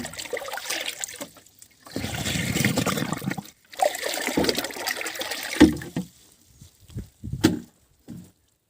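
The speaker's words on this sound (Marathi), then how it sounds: "हे टाकल्याच्या नंतर याला हळून घ्यायचं आहे थोडं" Lime solution being stirred into a large volume of water to make Bordeaux mixture for citrus spraying, heard as sloshing, trickling water in uneven bursts, loud and close, with short pauses between strokes and no talk.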